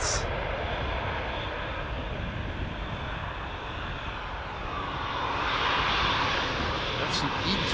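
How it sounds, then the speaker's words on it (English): A KLM Embraer E195-E2 jet departs Amsterdam Schiphol on a flight to Birmingham. Its steady broadband engine roar holds throughout and swells slightly near the end. "That's an E2 Embraer 195. Taking Cheater's Lane"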